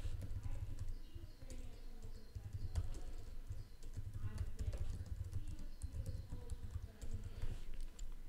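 Fingers typing code on a computer keyboard, a quiet continuous patter of key clicks at an uneven pace, close but faint with no other sounds.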